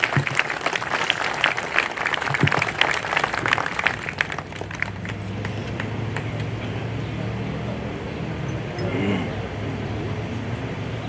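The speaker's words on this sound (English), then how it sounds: "Could you please step forward and give a round of applause?" Applause from an outdoor crowd at a Vietnam veterans reunion on a town green, dense clapping for the first few seconds before thinning into open-air ambience and passing traffic.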